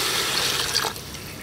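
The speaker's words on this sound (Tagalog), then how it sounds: "Maglalagay na po tayo ng tubig para sa pampalambot po sa ating karne." Water gushes into a pot of sautéed beef to tenderise the meat for a Filipino boiled beef dish, a steady close splashing pour with no talk.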